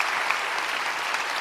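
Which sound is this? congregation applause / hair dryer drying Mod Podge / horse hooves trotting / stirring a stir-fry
congregation applause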